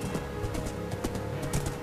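Rapid clip-clop of horse hooves trots steadily in Minecraft over a dense bed of game music and ambient noise.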